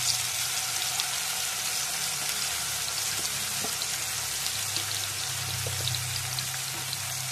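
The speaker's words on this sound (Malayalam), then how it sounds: "അത് ഒഴിച്ച് ചേർത്തതിന് ശേഷം നമ്മൾ മാരിനേറ്റ് ചെയ്ത് വെച്ച ചിക്കൻ അതിനകത്തേക്ക് ചേർത്ത് കൊടുക്കാം." Marinated chicken for Al Faham is added to hot sunflower oil in a pan, giving a steady, close, crackling sizzle with scattered pops throughout, with no talking.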